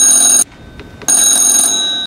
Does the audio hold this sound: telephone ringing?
yes